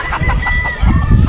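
A Boston Roundhead gamefowl rooster on a Batangas game farm clucks and gives short crowing calls up close, loud against rustling barnyard noise.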